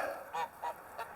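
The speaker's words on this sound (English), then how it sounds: "we acquired 4 Toulouse geese" Toulouse geese on a farm in winter, a series of about five short, nasal honks in a quick, uneven rhythm, fairly faint and moderately distant with no other sounds around them.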